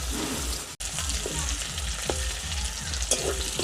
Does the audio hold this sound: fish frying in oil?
yes